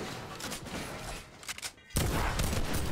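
Gunfire in the video game Fortnite: a dense, continuous crackle of shots that cuts out briefly and then resumes with a loud, heavy burst near the end.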